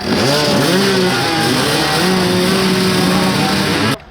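Two-stroke off-road motorcycles rev loud and close, their engines rising and falling in pitch in a continuous buzzing roar that cuts off abruptly at the end.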